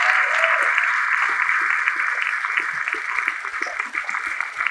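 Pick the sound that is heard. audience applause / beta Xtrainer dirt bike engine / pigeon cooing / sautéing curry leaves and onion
audience applause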